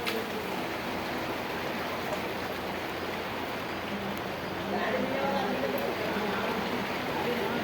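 Floodwater pouring into a house in Chincholi during heavy rain, a dense continuous rushing and splashing wash of water heard close and loud, with a voice talking faintly over it.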